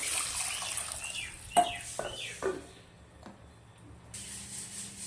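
Water is poured into a pot of kadhi made with gram flour and buttermilk in a home kitchen, giving brief splashing bursts that stand out over quiet background noise, with no talking.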